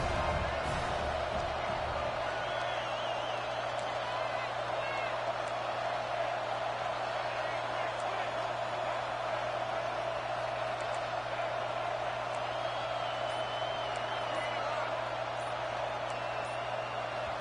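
Stadium crowd in the College Football 26 video game roaring in a steady, dense wall of noise that holds without a break, with a low hum underneath.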